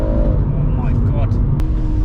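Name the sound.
BMW M140i with limited slip differential spinning wheels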